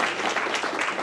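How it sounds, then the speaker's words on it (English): A brief, even burst of applause from a symposium audience, thanking directors, staff and speakers, with many hands clapping close together and no voices over it. "I want to give another round of applause and thank you to our directors and staff and these wonderful speakers for being here today"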